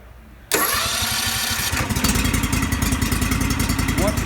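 A key-start Aztec LowRider burnisher engine cranks and catches after a brief quiet moment, settling into a loud, rapid, close idle clatter.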